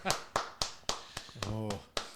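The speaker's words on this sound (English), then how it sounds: "but the clapping is okay" Hands clapping sharply, about eight crisp claps in an uneven rhythm, close and fairly quiet, with a brief hummed voice partway through.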